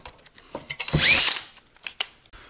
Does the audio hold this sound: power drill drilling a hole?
yes